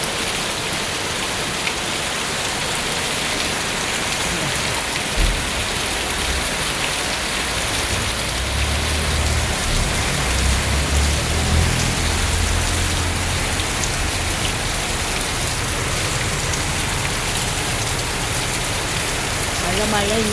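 Heavy rain driven by wind pours down in a dense, steady hiss of drops on surfaces, with a low rumble building in the middle and no break in the downpour.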